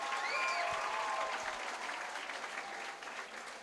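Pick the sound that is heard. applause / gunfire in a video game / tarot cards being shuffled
applause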